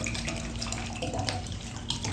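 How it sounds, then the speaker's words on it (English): Water poured into a glass for a drink made with echinacea and tonic drops, a steady liquid trickle with faint splashy accents running through the whole clip at low level, no voice over it. "Or your water."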